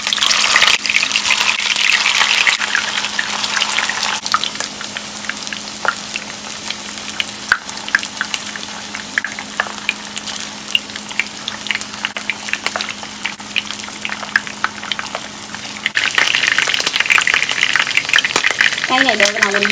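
Vietnamese shrimp paste rolls (chạo tôm) deep-fry in hot oil with a dense, continuous crackling sizzle, loud and close throughout, with brief shifts as pieces are stirred or moved.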